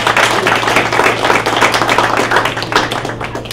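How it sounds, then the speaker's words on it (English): An audience applauds at a Mural Arts fundraiser for Philadelphia schools. Many hands clap in a loud, dense, continuous patter over a low steady hum. "Clap it up."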